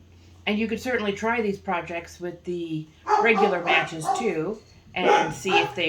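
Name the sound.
dogs barking in the house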